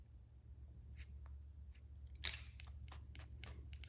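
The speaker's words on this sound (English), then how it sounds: "just bring the shears in, just come on an angle, just cut those a little different." Hair shears making a few quiet snips while cutting a short pixie haircut, soft isolated clicks with one sharper cut midway, over a low background hum and with no talking.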